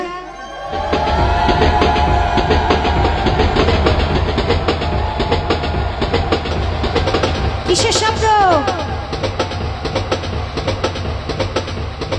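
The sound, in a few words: train sound, played recording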